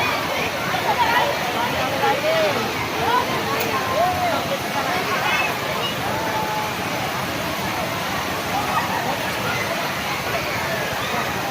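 A waterfall on a trip in Makassar gives a steady, loud broadband rush that never lets up, with people talking faintly over it.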